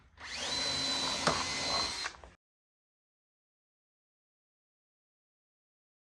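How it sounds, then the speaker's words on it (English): A power drill boring holes through a True Position TP-1934 jig into wood, a close, steady high whine lasting about two seconds with a brief sharp catch midway, then silence. "Then I'm simply going to hold the jig, insert in the hole, and drill my holes."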